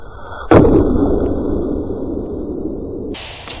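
One sharp shot cracks from a Brocock Compatto air rifle aimed at a bottle top about 67 metres downrange, followed by a broad rushing noise that hangs behind it and a faint distant tick.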